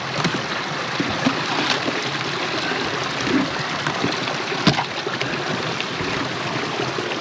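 Snow-melt stream flowing steadily in a burned forest during an elk hunt, a continuous broadband rush of running water close by with small splashes, no voices.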